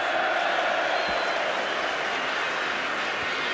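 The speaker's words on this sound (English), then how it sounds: "there's a cheer from the West Ham fans for Alan Devonshire" West Ham United fans cheer for Alan Devonshire during a football match against Arsenal, a steady broad roar of a distant stadium crowd that holds throughout without pause.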